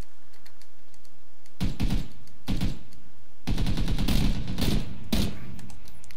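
Gunfire in PlayerUnknown's Battlegrounds comes as loud, close bursts of sharp shots, a short volley, a pause, then longer rapid strings of fire, with no one talking.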